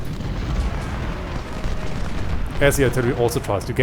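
Artillery and musket fire from the Civil War strategy game Ultimate General: Civil War at Thoroughfare Gap, a dense rumbling barrage of booms throughout, with a voice talking over the last second.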